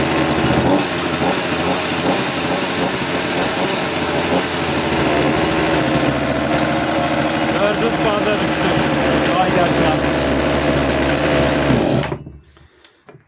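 A chainsaw's small two-stroke engine idles while warming up, a loud, close, steady buzzing rattle that runs continuously before cutting off near the end, with someone speaking briefly over it.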